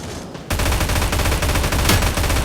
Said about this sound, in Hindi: पीछे से गोलियाँ चलने लगी थी